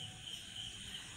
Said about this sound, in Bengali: আর শুনতে পাচ্ছ ঝিঝি পোকার ডাক